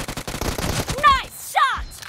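Gunfire from a UMP submachine gun in the mobile shooter BGMI during a team deathmatch, two short bursts of sharp shots close up, mixed with game effects.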